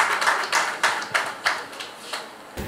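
A few people clap at a small talk on prisoners' health, sparse and uneven claps, roughly a handful of distinct slaps spaced apart, fairly quiet with no talk over them.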